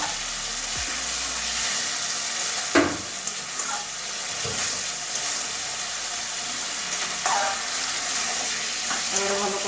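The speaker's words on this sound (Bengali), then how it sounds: "লটে মাছ তো খুব নরম তো হালকা হালকাভাবে একটু কষিয়ে নিচ্ছি মশলার সঙ্গে" Soft lote (Bombay duck) fish being gently stirred with spices in a pan, a steady low sizzle with occasional scraping knocks of the spatula, fairly quiet and even.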